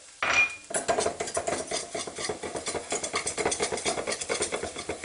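Minced garlic and ginger root are mixed together in a pan with a utensil, making quick, rhythmic scraping and clinking strokes that stay close and fairly loud.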